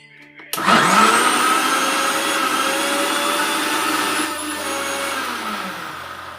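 A blender whirs steadily, mixing flour batter thinned with water or milk for chatti pathiri. The motor starts abruptly and runs loud and close, with a slight drop in tone partway through.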